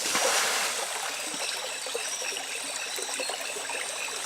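A stream trickles and splashes gently nearby, a soft continuous burble with no voices.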